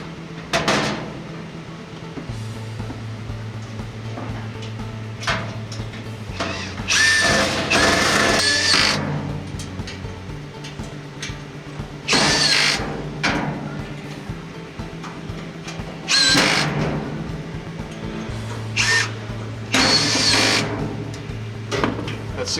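Fittings on a RolaCase lockable box are tightened with a power tool: loud whirring bursts of driving separated by pauses with lower motor hum and small clicks and knocks, close by.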